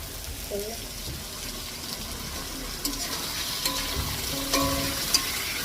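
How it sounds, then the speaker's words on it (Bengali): Potato and onion frying in a hot wok produce a steady close sizzle, punctuated by a few sharper scrapes and clatters of stirring, with faint voices in the background. "এখন হচ্ছে আলুটা আর পেঁয়াজটা লাগানো ওটা হালকা ভেজে নিবি"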